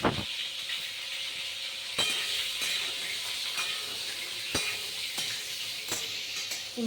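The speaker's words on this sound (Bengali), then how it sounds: "ভাপানো ফুলকপিগুলো দিয়ে ভেজে নেব" Steamed cauliflower pieces fry in a pan with a moderate, steady hiss, broken by several sharp clinks and taps from stirring at irregular intervals.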